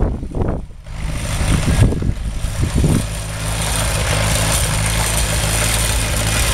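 An old tractor engine runs at a farm show, with a few uneven revs and bursts at first, then settling into a steady, loud, close idle with a low, throbbing hum.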